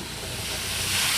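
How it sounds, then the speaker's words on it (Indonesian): Pangsit sticks deep-frying in a generous amount of oil over medium heat, a steady close sizzling hiss that runs unbroken and grows slightly louder toward the end, with no talk. "sekarang kita goreng gunakan minyak banyak ya dengan api sedang"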